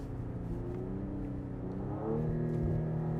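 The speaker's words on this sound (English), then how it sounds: "Downshift a couple times." A 2020 Cadillac CT5-V engine hums steadily, then its pitch jumps as the car downshifts and revs, heard from inside the cabin with no talk.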